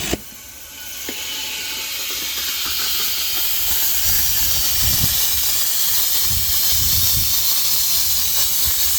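Compressed air rushes through a sprinkler system during a blowout, a loud continuous hiss building steadily after a brief initial pop and staying strong throughout.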